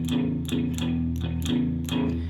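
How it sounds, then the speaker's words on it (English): A distorted electric guitar chugs a steady shuffling rhythm pattern, each strummed chord accented in a regular repeating blues groove, loud and continuous. "I just call it the blues pattern. And it normally sounds like this."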